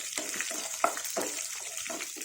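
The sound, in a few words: drumsticks frying in a pan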